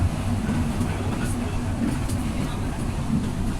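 Steady low rumble of an LRT-1 light rail train in motion in Manila, a smooth continuous drone heard from inside the car with faint passenger chatter beneath.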